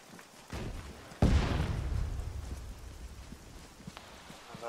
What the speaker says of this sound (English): there's a lot of explosions back there.